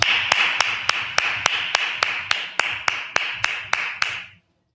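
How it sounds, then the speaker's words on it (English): A group clapping in unison in a class setting, about fifteen sharp, evenly spaced claps in a steady rhythm, close and loud, stopping abruptly. "Clap it up."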